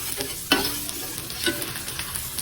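Garlic sizzles steadily in hot oil for a mung bean stew, with a few sharp scrapes and knocks of a stirring spoon against the pan at close range.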